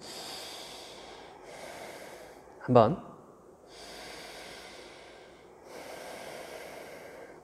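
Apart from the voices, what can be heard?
slow yoga breathing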